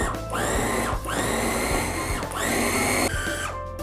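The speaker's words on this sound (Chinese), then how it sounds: "然后把山药放到绞肉机里边，加入2勺白糖，盖上盖" A meat grinder whirs as it purees Chinese yam with two spoons of sugar into a smooth paste, running loud and steady in three long bursts with short dips between them, with no talk.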